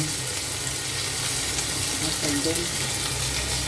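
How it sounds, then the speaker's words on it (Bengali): Paneer tikka sticks sizzle in a pan over medium-low heat, giving a steady, dense hiss that fills the whole stretch at an even level with faint clatter mixed in. "এবার এই স্টিকগুলিকে দিয়ে দেওয়া হলো আঁচটা কিন্তু মিডিয়াম টু লোতেই রাখা হয়েছে"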